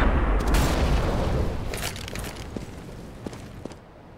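A grenade in Counter-Strike detonates with a heavy boom right at the start, its rumble tailing off over a few seconds while a few sharp clicks and pops follow.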